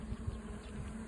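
Honeybees buzz steadily at an open beehive during a brood-comb inspection, a continuous low hum close by with no talking.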